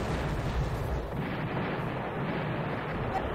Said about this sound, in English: Oh, I guess they called in a barrage.